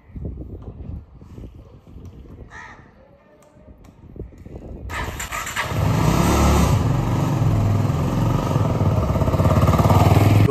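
A motorbike engine starts halfway through after quieter low rumbling and clatter, then settles into a loud, steady close idle that carries on to the end.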